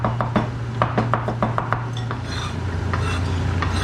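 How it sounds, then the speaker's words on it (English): A knife chops quickly and repeatedly through chillies on a chopping board, rapid close clicks and knocks over a steady low hum, with a loose board shifting about; the chopping thins out midway. "I forgot to put a cloth under my chopping board, so it's moving around."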